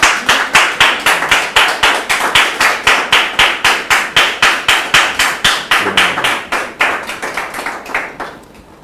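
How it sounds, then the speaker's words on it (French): A studio audience claps in steady, rhythmic unison to welcome a guest, the wife of a man named Maxime Legrand, on a French-language talk show about marriage; loud, even beats that thin out and fade near the end, no talk over it. "On la reçoit sous vos applaudissements"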